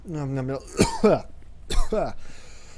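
A person coughs a few times in quick bursts, with speech-like vocal sounds mixed in between.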